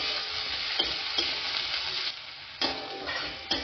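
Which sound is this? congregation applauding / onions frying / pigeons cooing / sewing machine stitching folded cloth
onions frying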